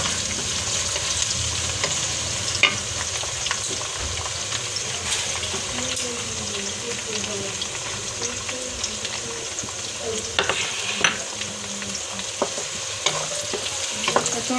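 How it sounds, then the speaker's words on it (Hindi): Onions fry in hot oil for matar pulao with a continuous close sizzle and crackle, scattered pops and sharper spits breaking through the steady hiss. "तेल गरम हो गया, मैं इसमें डालूँगी प्याज।"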